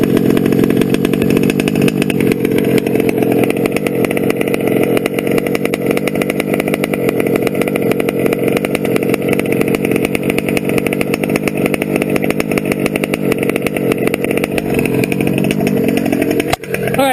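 A modded TLR 5B RC car's small two-stroke gas engine with an OBR 34SS reed revs loud and close in a sustained, buzzing, chainsaw-like whine that holds steady for the whole stretch, dipping briefly at the very end.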